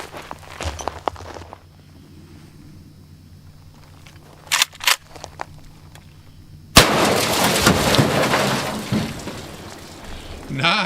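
A .44 Magnum Marlin lever action rifle fires outdoors. After quieter handling clicks comes a sudden loud blast whose noisy tail rings on for several seconds.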